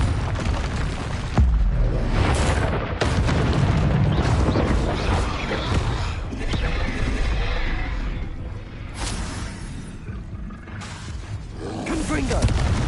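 Spell blasts from Confringo casts burst repeatedly during combat in the video game Hogwarts Legacy, heavy booming roars layered over dense battle noise and shouted incantations, loud and continuous throughout.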